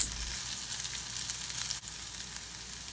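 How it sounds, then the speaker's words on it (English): Curry leaves and golden onions sizzle steadily in a pan of hot oil, a close, even crackle with no voices. "Let's add curry leaves now. Fry this for 30 seconds."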